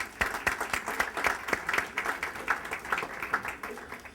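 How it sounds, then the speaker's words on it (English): An indoor audience at a business summit breaks into applause, a dense, steady patter of many hands clapping at close range for several seconds, with no voices over it. "If I could have a round of applause for her"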